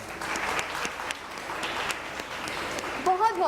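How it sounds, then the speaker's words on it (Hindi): A studio audience at an Iftar television show claps steadily for a guest, moderately loud applause that thins toward the end as a voice begins speaking over it. "तालियां होनी चाहिए"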